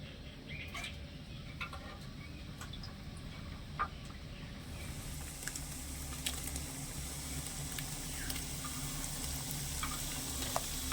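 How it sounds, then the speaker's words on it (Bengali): Small portions of sweet batter dropped into moderately hot oil start a sizzle about halfway through, rising into a steady bubbling fry with scattered small pops and clinks. "এবারে আমি এখান থেকে অল্প অল্প করে নিয়ে মিষ্টিগুলো ছেড়ে দেবো তেলে"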